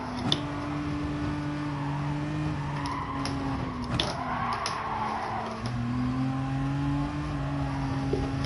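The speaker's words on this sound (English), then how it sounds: "that was a drifty overtake" Race car engine drone with tires squealing and skidding as the car drifts through an overtake in Gran Turismo Sport, a steady loud motor tone shifting pitch with throttle, plus brief scrapes, with no talk.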